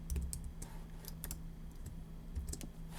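Keystrokes on a computer keyboard as answers are typed into an online average atomic mass lab form, with scattered clicks in uneven bursts over a steady low hum, no talking.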